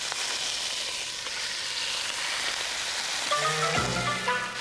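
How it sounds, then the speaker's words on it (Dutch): Sliced lamb meat sizzles steadily as it sears in a pan, a dense crackling hiss at a constant level, with a brief clink of the pan near the end and no talk. "Aanbraden het vlees."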